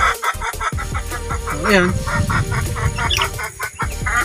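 Broiler chicks at a small backyard raising site give dense, continuous cheeping and clucking calls, loud and close, with someone speaking briefly over the flock.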